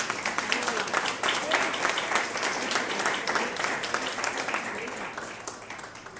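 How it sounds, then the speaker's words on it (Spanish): A church congregation applauds together during a Spanish-language sermon, a dense, steady wash of clapping that holds for several seconds and eases off slightly toward the end. "Dame un aplauso al Señor."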